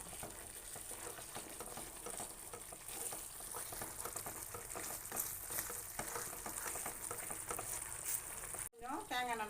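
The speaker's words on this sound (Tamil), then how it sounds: "இதில் வந்து மெயினாக கை விடாமல் கிளறிட்டே இருக்கணும்" Kerala halwa being stirred nonstop in a pan, a steady close scraping and bubbling sizzle that runs for several seconds before a brief break near the end, with faint voice in the background.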